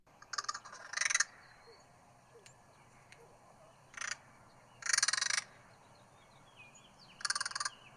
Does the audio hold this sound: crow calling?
yes